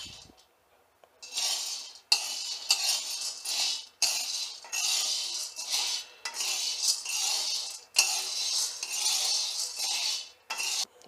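Chickpeas are roasted and stirred in a metal kadhai, giving a steady dry rattling scrape in repeated sweeps, close and fairly loud, broken by short pauses and a few sharp knocks of the spoon against the pan.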